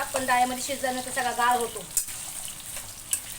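Vegetables fry in a pan with a soft continuous sizzle and occasional stirring clicks, heard beneath someone talking for most of the clip.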